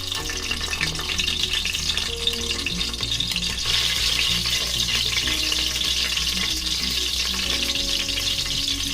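Steady sizzling of green chilies frying in hot oil, continuous and close, with a low hum underneath and no talking.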